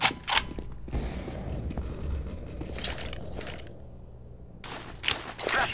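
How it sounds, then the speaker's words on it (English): Game sounds from Counter-Strike: Global Offensive competitive play on the Mirage map, with a flashbang grenade thrown. Several loud, sharp bursts go off, one near the start and others around the middle and end, over a steady rumbling ambience. "Throwing flashbang."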